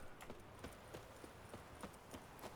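Horse hooves clip-clop in a steady, even rhythm in The Witcher 3, each hoofbeat a crisp, close knock over a low continuous background, with no voices.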